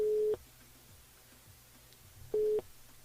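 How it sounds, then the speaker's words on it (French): Two long ringback tones on a telephone line as a French radio morning show host calls a listener on air, each tone a steady hum about a third of a second long, separated by a quiet gap of faint background. "on appelle Gwenel du côté de Saint-Paul ce matin."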